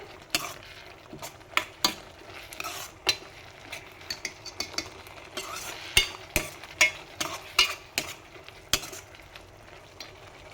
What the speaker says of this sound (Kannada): ನಂತರ ಒಂದು ಸ್ವಲ್ಪ ಗರಂ ಮಸಾಲ ಪೌಡರ್ನ ಹಾಕಿಬಿಟ್ಟು ಮಿಕ್ಸ್ ಮಾಡಿ ಹೀಗೆ